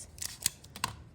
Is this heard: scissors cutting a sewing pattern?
yes